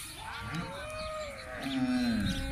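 Goats at a livestock sale bleat and call under a continuous, busy outdoor background, with one longer, louder bleat near the end and no clear talking.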